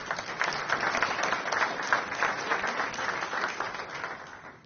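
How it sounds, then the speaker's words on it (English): An audience at a city budget presentation breaks into applause, a fairly soft, steady wash of clapping that thins and fades toward the end. "I think we should give a round of applause for that as well."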